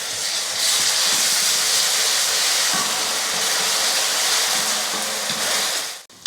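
Ginger garlic paste sizzles with shallots in hot oil for a country chicken fry, a loud, continuous frying hiss that fades at the end into a brief clatter.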